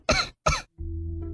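Two sharp, close coughs from a character in a Chinese audio drama, followed by a low sustained background tone; no speech.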